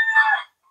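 Large hens of the Pauwakan Azels line on a Filipino farm, a single close, loud crow-like call lasting about half a second, then silence.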